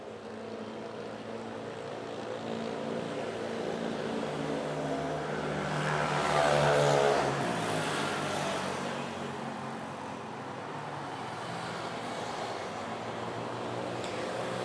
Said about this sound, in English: We got the flight to Riyadh. Lining up to runway 24.